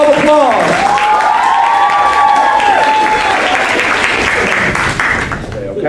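Loud audience applause and cheering fill the room at a youth speech competition awards ceremony, with whoops and shouting voices rising over steady clapping before fading slightly at the end.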